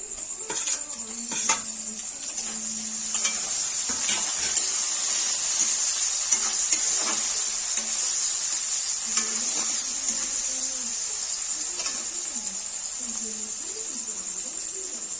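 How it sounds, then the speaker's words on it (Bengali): Chopped tomato fries with onion in a pan, a steady sizzle under scattered scrapes and clinks of a utensil against the pan, close and moderately loud. "তাহলে টমেটো কুচি দিয়ে দেবো"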